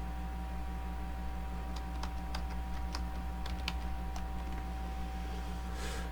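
A search term is typed on a computer keyboard: a short run of light, irregular key clicks in the middle, fairly quiet over a steady electrical hum, with no talking.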